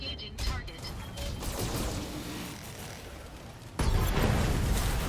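Mech cannons firing in the BattleTech video game, a dense, loud barrage of booming and crackling blasts that runs throughout, with a sharp surge of heavier impacts near the end.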